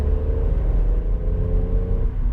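A 2017 Toyota Aygo's small 69-horsepower engine hums and rumbles steadily at moderate revs while driving, close by and loud, with a faint whirring tone over the low drone.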